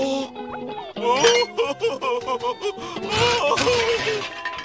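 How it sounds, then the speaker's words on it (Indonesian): A cartoon boat from a boating-school episode crashes into a lighthouse with loud crunching and shattering bursts. Dramatic tonal music and voices run through it. "Dia panik dan mulai menyetir dengan agresif. hingga akhirnya menabrak mercusuar lagi."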